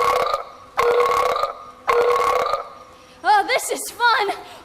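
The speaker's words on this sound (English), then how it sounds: "Burping is the answer." Three long, loud, rumbling burps from a performer on stage in an outdoor theatre production of Willy Wonka, followed by a bright, wavering voice.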